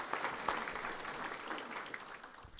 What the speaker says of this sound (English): we need to give you a round of applause